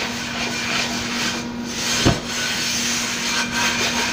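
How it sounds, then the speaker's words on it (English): Kosher salt scraped and rubbed around the bottom of a cast iron skillet, a steady gritty rasping over a constant low hum, with one brief louder scrape midway. "You're just moving the salt around in the bottom of your skillet"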